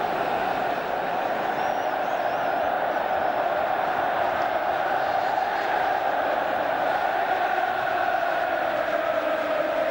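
The Wembley football crowd roars steadily throughout an England match, a dense wall of distant chanting and cheering from a huge stadium audience that holds at a constant level with no break.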